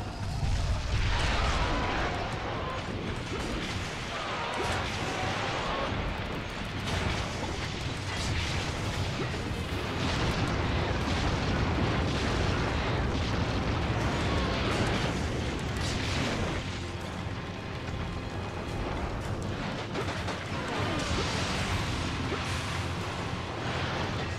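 Bombs set by Cha-Cha explode near the top of a volcano in Monster Hunter Tri, a dense, loud, continuous run of booming blasts and crashing impacts with no pause, over a rumbling low background.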